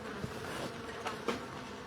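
Honeybees buzz steadily during the transfer of a highly selected colony from one hive to another, a continuous close insect drone with a few brief louder swells and no talking.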